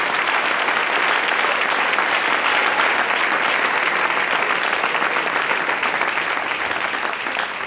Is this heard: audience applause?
yes